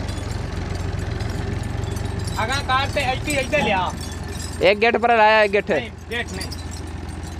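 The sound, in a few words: tractor engine running while hitching a trolley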